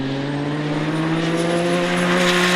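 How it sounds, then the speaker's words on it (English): BMW and Ferrari GT race cars battling in a GT Cup race at Snetterton, a loud sustained engine roar with a steady high whine and slowly rising pitch as the cars run hard together. "BMW chases Ferrari, and Dan working hard."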